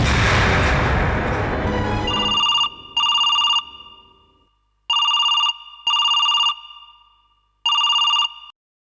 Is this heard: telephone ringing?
yes